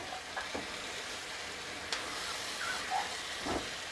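Masala for chilli cauliflower sizzling and hissing in a pan after water is added, a steady soft frying hiss with a few brief stirring scrapes, fairly quiet and without talk.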